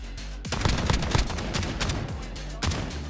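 Gunfire in a Modern Warfare match, with rapid close shots in quick succession forming a dense burst, then a brief pause and another loud shot near the end.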